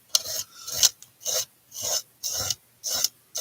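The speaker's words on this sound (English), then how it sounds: "Just gonna scrape the rest of this off" Residue is scraped off a surface with a tool in seven or eight even, rasping strokes, each a close gritty scrape followed by a brief pause, with no one speaking.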